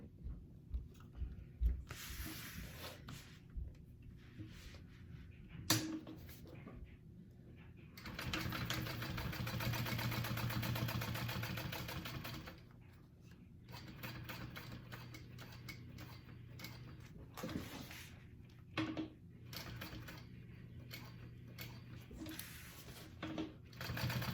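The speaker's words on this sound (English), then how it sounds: "Go ahead and sew that with an 1/8 inch seam allowance onto your bag" A sewing machine stitches a handle onto a bag with a narrow seam, running in bursts with a steady mechanical whir, loudest in a long sustained run midway, with pauses and small clicks between.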